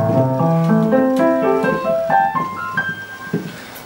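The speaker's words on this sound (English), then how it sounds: "So the first thing that I will go over is something called an arpeggio." A piano plays quick rising arpeggios built from three notes, the patterns repeating in a rippling rhythm before trailing off into sparse, fading notes, close and clear with no talking.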